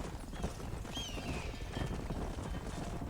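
A horse's hooves clip-clop steadily in Red Dead Redemption, a fairly quiet, even galloping rhythm with a brief high whinny-like tone partway through.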